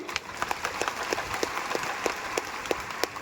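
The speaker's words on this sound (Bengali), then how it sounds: "সকলকে আমরা তালি বাজিয়ে ধন্যবাদ জানাচ্ছি" Scattered applause from a gathering thanking district officials: sparse, distinct hand claps spaced through the moment over a steady background murmur, moderately distant.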